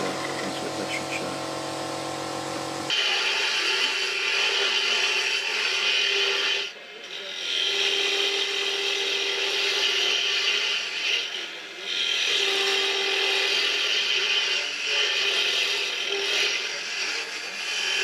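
Timber for a wine rack is cut through with a woodworking tool, a loud, steady, close rasping drone that runs almost unbroken for the whole stretch, dipping briefly twice, after a short different-sounding lead-in.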